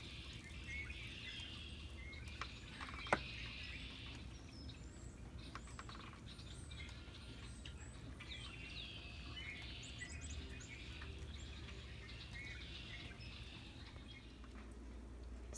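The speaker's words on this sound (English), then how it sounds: "You can still hear the birds are singing." Birds singing outdoors during an April snow shower, with many scattered chirps and trills at a moderate distance over a steady soft background hiss, and no voices.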